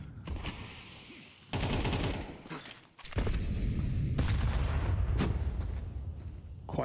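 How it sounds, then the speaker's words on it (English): Gunfire and a heavy grenade blast in a Counter-Strike match: rattling bursts of shots and booms, then a loud sustained roar of explosion and firing filling the second half, close and intense. "Quite the hefty nade onto Woxic."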